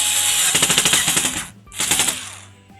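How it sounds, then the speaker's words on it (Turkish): Screws being driven back into a PVC window lock with a power screwdriver, two bursts of rapid rattling ratchet clicks, close and loud, separated by a short pause, with a low motor whine fading at the end. "Vidalarımızı aynı şekilde geri takıyoruz."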